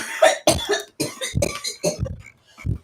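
A woman coughing repeatedly, a run of about half a dozen harsh, close coughs in quick succession with brief gaps, loud and isolated without speech.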